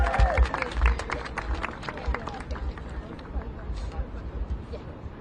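Applause at the end of a press conference held by Chicago officials: a crowd's scattered, crackling claps that start stronger, then thin into uneven patter, with voices murmuring underneath.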